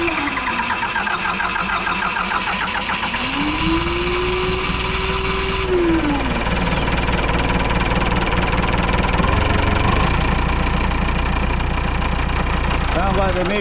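A car engine being started after a fuel line is tightened, cranking with a rising whine before catching and settling into a steady rough idle, with a higher whine joining near the end.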